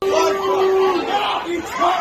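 A football crowd in a stadium roars and chants together, a loud sustained surge of massed voices with one long held tone early on, swelling again near the end.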